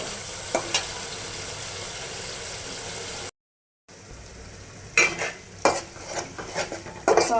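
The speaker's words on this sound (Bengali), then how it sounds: "মশলাগুলোও সুন্দর করে কষানো হচ্ছে" Spice masala for chicken bhuna is sautéed in a pan, giving a continuous sizzle with repeated scraping and clinking stirs of a utensil against the metal. The stirring grows busier after a short gap, and no one talks.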